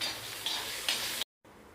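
Onions tipped into hot oil where mustard seeds have already popped, a steady broadband sizzle with a couple of brief stirring clicks, then a short drop to silence before a quieter sizzle resumes.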